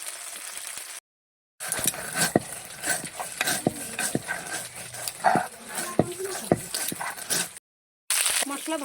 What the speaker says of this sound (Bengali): আদা কাঁচা লঙ্কা একটু ভালো করে ভেজে নিচ্ছি।